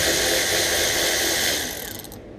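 Socket ratchet loosening 10 mm bolts on the exhaust clamps of a Volkswagen Super Beetle, a loud, close, steady whirring ratchet run that fades out near the end.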